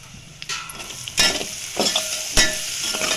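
Garlic paste, ground sesame-coconut paste and curry leaves fry and hiss in a pan as they are stirred, with several scraping strokes over a steady sizzle and no voices.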